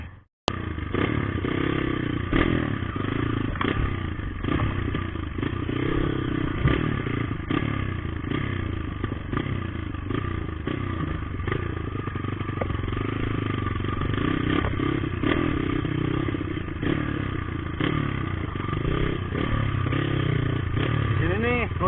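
Dirt motorcycle stuck on a pine forest trail, its low ground clearance catching the engine on the ground, revving steadily with rough throttle surges and clattering scrapes for over twenty seconds, close and loud throughout.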